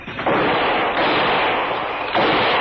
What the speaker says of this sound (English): you're wasting bullets, Steve.